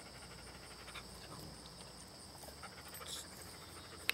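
A dog panting quietly outdoors in warm weather, soft rapid breaths beneath a steady background of insect buzzing, low in level with one sharp click at the very end.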